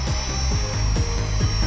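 Blade 200 SRX radio-controlled helicopter in flight, a steady whine of rotor and motor with a sustained high tone and low rhythmic blade chop, close and loud, no talking.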